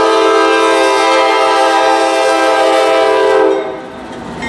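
A Norfolk Southern freight train, NS 234 led by three diesel units, sounds its horn loud and close in one long sustained blast. The rumble of the train passing continues as the horn cuts off near the end.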